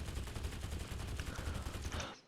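AKM rifle firing in Totally Accurate Battlegrounds, a rapid sustained burst of automatic shots in a steady, dense rhythm, loud and close, cutting off abruptly.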